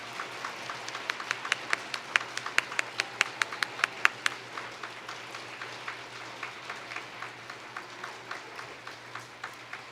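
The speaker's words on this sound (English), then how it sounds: "Join me in a round of applause for the class of 2033." Applause for the class of 2033 at a fourth-grade flight ceremony, with sparse individual claps building into a brisk, fairly even run of sharp hand claps, then thinning to softer scattered claps in a room.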